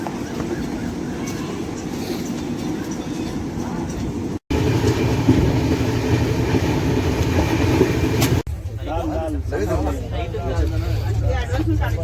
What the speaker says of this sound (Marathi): गाडी फास्ट चालते आहे